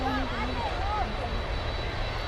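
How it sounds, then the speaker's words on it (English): A jet airliner takes off at Miami International Airport, its engines giving a loud, steady, broadband roar that fills the scene throughout, with faint wavering tones above it. "Good sounding takeoff"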